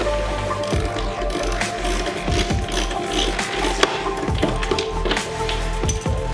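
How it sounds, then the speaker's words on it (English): A ratchet tightens bolts on lockable hard saddlebags for a Challenger X Outlaw scooter. Rapid clicking strokes repeat in short bursts, close and distinct, over a faint background hum. "we're now going to tighten down the four bolts"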